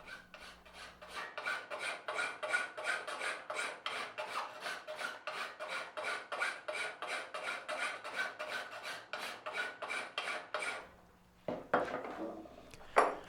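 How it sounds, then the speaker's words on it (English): Steady rhythmic rasping of a hand file drawn back and forth across a steel knife blank, about thirty close, even strokes, then a brief pause and a few scraping handling sounds. "I'll do the whole thing with the file"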